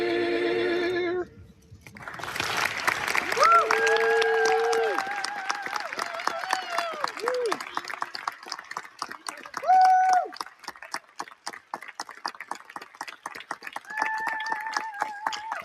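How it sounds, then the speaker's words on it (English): An audience at a choral concert claps steadily throughout, with loud whoops and sustained cheering voices rising over the applause in several bursts. "That's a good audience cheering."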